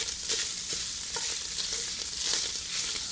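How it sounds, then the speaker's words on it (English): Onion and sausage fry in the leftover sausage fat in a pan, giving a steady close sizzle with occasional stirring scrapes and no talking. "now it's frying in what's left over from the sausage fat"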